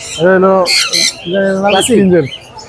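Close, loud, harsh squawks from caged pet birds such as budgerigar chicks and cockatiels at a busy Friday bird market in Mirpur, Dhaka, with a voice briefly talking.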